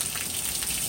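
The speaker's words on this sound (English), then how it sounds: "Oh my, it is still raining." Rain falls steadily outside a door during a storm, a soft, even hiss of drops on surfaces, moderately close and uninterrupted.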